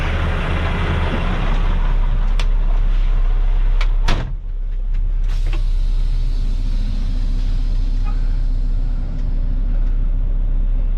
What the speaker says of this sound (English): make sure we back up, hook back onto the trailer before we try to leave